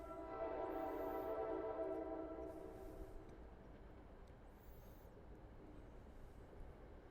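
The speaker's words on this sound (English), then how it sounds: "There comes the train." A New Jersey Transit commuter train rumbles past with a loud, droning roar that gradually recedes into a steady low rushing noise.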